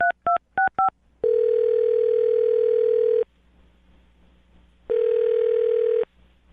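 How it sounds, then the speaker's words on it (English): A telephone beeps out four quick dialing tones, then a steady dial-type tone holds for about two seconds, goes quiet, and returns for another second, clean and close with no talk. "I'm going to dial his phone number right now"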